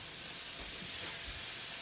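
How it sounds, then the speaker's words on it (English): Wine poured into a hot pan of cooked onions while making chicken and broccoli with mushroom truffle sauce, giving a steady, close, loud hiss of sizzling steam that holds throughout without pause. "I'm gonna put some wine in."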